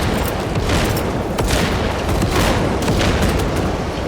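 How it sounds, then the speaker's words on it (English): Frag grenade blast in the video game Space Marine 2 amid dense continuous battle noise, rumbling booms and crackling gunfire filling the whole stretch at steady loudness, with no clear gap. "Frag grenade deployed."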